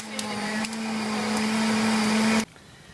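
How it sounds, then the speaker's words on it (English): A kitchen blender runs on high while blending a drink, a loud steady whirring motor with a constant hum that holds for about two and a half seconds, then cuts off abruptly. "gotta put the blender on high"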